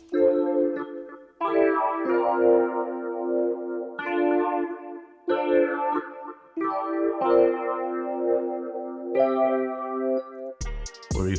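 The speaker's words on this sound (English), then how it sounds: "The first thing I started with were these keys from Analog Lab," Analog Lab stage keys electric piano plays sustained chords, with each chord ringing for a second or two in a slow progression. The tone is warm and softly effected, heard close and on its own.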